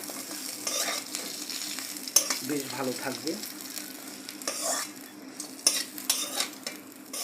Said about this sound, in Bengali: তেলের মধ্যে আমটা দিয়ে ভালো করে ভেজে নেওয়া হচ্ছে